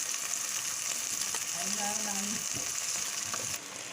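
Gobi manchurian (fried cauliflower) sizzling in a pan with vinegar, soy sauce, tomato sauce and chili sauce: a steady, fairly quiet hiss of frying throughout, with a few soft stirring scrapes.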